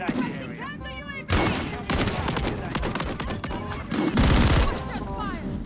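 Gunfire in the shooter game xDefiant rings out in loud, rapid bursts that start abruptly and repeat, with game voice callouts heard between and over the shots.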